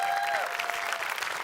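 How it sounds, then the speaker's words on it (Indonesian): Steady audience applause for stand-up comedian Mc Danny fills the room, dense and continuous throughout, with a faint sustained tone at the very start. "Tolong tepuk tangan ya"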